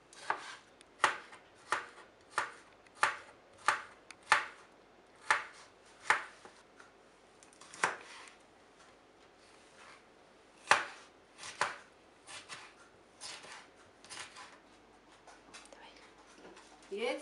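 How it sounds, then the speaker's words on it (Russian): A knife dices tomatoes, cucumber and pepper into cubes on a board, giving a steady series of sharp chopping taps, close but fairly quiet, with a soft voice heard under parts of it. "Также нарезаем кубиками овощи, помидоры, огурчик и перец."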